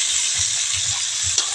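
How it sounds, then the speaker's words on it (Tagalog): Crab sizzling in a pan while being stirred, a constant bright frying hiss with soft low scraping and clacking strokes in an uneven rhythm, close and fairly loud. "Haluin natin."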